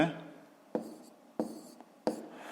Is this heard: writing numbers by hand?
yes